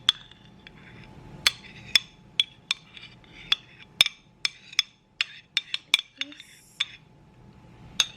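Sharp clinks and taps of utensils against a bowl as a seafood boil for giant crabs is moved into a smaller bowl, a dozen or so irregular knocks close by in a quiet room.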